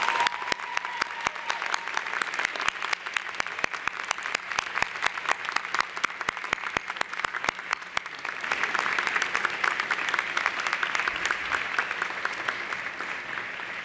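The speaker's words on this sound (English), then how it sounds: "giving them a big round of applause" An audience at a university graduation convocation claps in a sustained, dense round of applause that rises and carries on strongly across the whole stretch, loud and close with no voices over it.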